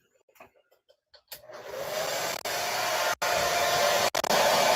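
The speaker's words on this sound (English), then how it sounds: "I'm just gonna lightly use my hair dryer to set it." A few faint clicks, then a hair dryer switches on and blows steadily at close range over punch needle work, briefly cutting out twice before resuming.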